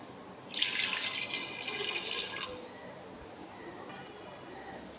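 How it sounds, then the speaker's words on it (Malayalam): A steady stream of water runs for about two seconds, splashing into a pressure cooker pot, then stops, leaving quiet room tone. "ഇനി നമ്മൾ അതിലേക്ക് കുറച്ച് വെള്ളം ഒഴിക്കാം"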